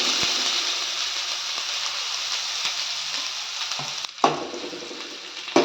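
Onions frying in oil with mustard seeds and cumin, a continuous bright crackling sizzle close to the pan with occasional scrapes and pops, briefly dipping then returning.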